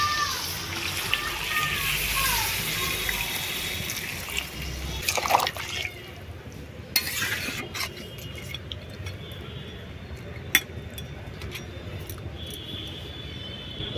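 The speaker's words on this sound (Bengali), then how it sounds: "এবারে জল দিয়ে দিচ্ছি।" Water poured into a pan of cooking country chicken, a splashing, trickling pour near the start that fades into bubbling and sizzling with scattered clinks, a voice talking over it.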